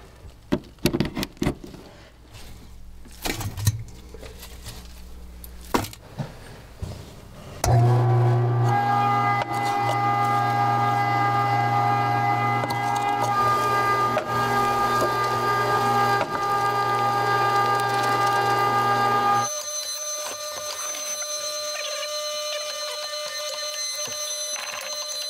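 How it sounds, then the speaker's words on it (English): A meat grinder grinding beef, a loud, steady electric motor whine with a pitch shift partway through, preceded by clatter and handling knocks. "We're just gonna start feeding the grinder and grinding some meats."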